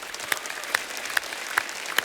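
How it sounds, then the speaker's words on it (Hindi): An audience claps at a comedy talk show with the Gangs of Wasseypur actors, a steady wash of applause broken by sharp regular accents about every half second. "जोरदार तालियां।"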